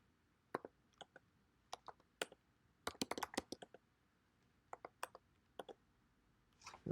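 Code being typed on a computer keyboard: faint, scattered bursts of quick key clicks with short pauses between them, recorded quietly with no talking.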